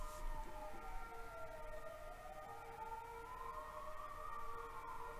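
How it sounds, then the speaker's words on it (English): Sirens from a group of passing ambulances drift in from outside, a faint, distant wailing tone that slowly rises and falls under low room hiss. "There's like a team of ambulances coming."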